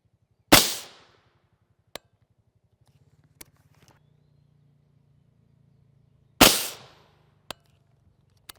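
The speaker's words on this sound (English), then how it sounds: "Our 2 shots of reduced velocity M855A1" Two loud, sharp rifle shots of reduced-velocity M855A1 rounds fired at an NIJ RF2/III+ armor plate, spaced about six seconds apart, each with a short decaying tail, with a low hum and a few faint clicks between.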